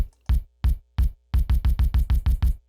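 A deep, punchy 1970s-style kick drum sample thumps three times slowly, then in a rapid run of about eight even hits, each short and boomy.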